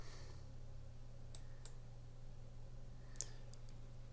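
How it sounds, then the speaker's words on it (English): A few faint, sharp clicks from a computer mouse are heard in a quiet room over a low steady hum, with a small cluster of clicks near the end. "all you do is scroll down to the bottom of the page and click on save"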